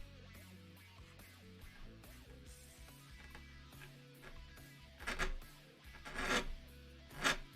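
A hand file rasps across metal in slow, quiet strokes, faint at first and then growing into several louder, distinct scraping passes near the end.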